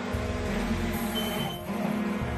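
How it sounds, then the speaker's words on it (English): A steady electronic alarm tone drones over a low rumbling engine-like background, continuous and fairly faint. "We got alarms going off."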